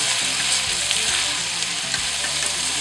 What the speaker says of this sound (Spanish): Vamos a dejarlo ahí, que se vaya pochando un poquito